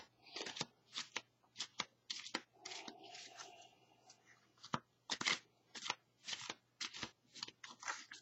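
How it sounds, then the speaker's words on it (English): Oracle cards from a Life Purpose deck being shuffled and pulled, with quiet, close riffling bursts and card flicks in an irregular rhythm over a faint background hum, and a voice murmuring softly midway. "We're going to pull two cards from the Life Purpose deck."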